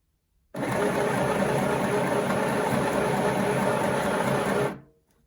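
A Midi sewing machine stitches around a fabric skirt in one steady, continuous mechanical whirr that starts abruptly, holds an even level for about four seconds, then winds down and stops, with no talking.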